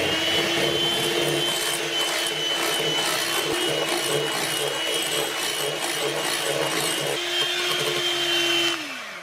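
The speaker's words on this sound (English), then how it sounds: "And we'll just whisk it in." An electric whisk drones loudly and steadily as sugar is beaten into meringue for ice cream, a constant motor whine with faint rattling, and it winds down just before the end.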